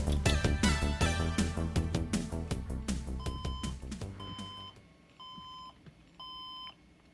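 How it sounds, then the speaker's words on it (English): An HP computer powering on and sounding a fault beep code: after a busy, loud stretch of clattering tones, a series of clear electronic beeps rings out in short spaced groups, close and steady. "HP's website just says the specific beep code means something might be disconnected"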